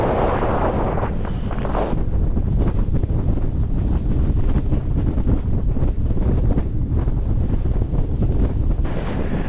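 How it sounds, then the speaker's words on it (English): Strong wind roars and buffets the microphone continuously at a winter wild camp in the Scottish Highlands, a loud rushing gust noise with no pause. "It's windy."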